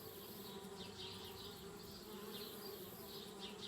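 A swarm of bees buzzing around a treehouse in the point-and-click adventure game Anna's Quest, a steady droning hum with wavering pitch that keeps on without a break and no voices.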